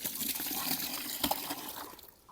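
Water pours to dilute a fermented sour rice water and onion peel mix for eggplant plants, a steady, close, soft splashing rush that fades out at the end.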